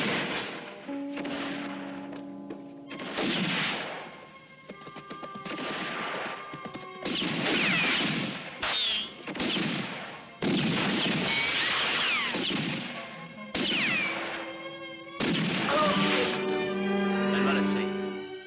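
Gunfire in a 1967 western film battle: loud, close bursts of shots and sharp cracks in rapid volleys, with shouted voices mixed between the blasts across a long, dense stretch.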